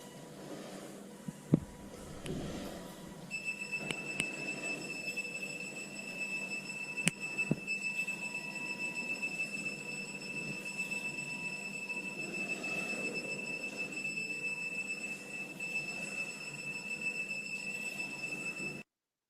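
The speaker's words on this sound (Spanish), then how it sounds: "es cuando debe comenzar a sonar la alarma" Alarm in a robot patrol simulation, steady high electronic tones sustained for most of the stretch after a brief quieter start, faint and continuous with occasional clicks.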